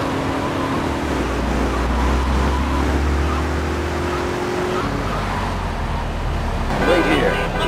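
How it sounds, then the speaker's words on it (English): A car engine idles steadily in GTA 3, a continuous low hum with traffic-like background noise throughout. "Keep the engine running."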